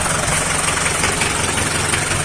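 A homemade mini Belarus tractor engine runs steadily in snow-clearing work, a continuous close, loud, low rumbling drone with a knocking undertone and no talk.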